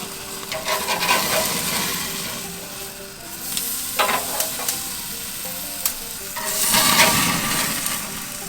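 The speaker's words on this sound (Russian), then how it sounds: "Остается выложить на гриль. И очень быстро с 2 сторон задать корочку." Steak searing on a grill gives a steady, broad sizzling hiss that swells and settles, with occasional sharp crackles and pops, close and fairly loud with no talk.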